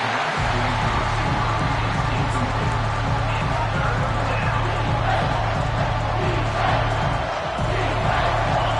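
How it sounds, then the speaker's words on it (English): A stadium crowd roars and cheers in NCAA Football 25 during a big third-down defensive stand, forming a dense, continuous wash of noise that barely wavers throughout. "The crowd elevating its energy, willing this defense to get a stop on this big 3rd down."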